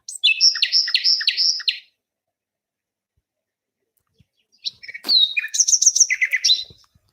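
Bird song in two bursts of rapid, high chirps and trilled phrases, a songbird calling near, then a pause, then a louder answering run of repeated chirps.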